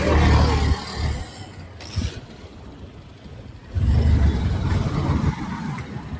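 A vehicle engine on a hillside outing near Purandar roars loudly, then eases off to a lower rumble before surging again in a second strong burst, with no talk over it.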